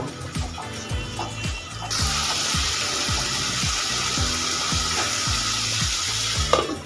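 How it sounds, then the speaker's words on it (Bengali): Soaked moong dal sautéing with spices and softened tomatoes in a pan: a steady, close sizzle with a series of regular scraping strokes from the stirring. "এই সময় ভিজিয়ে রাখা মুগ ডালটা দিয়ে দেব মশলার সাথে কষিয়ে নেব"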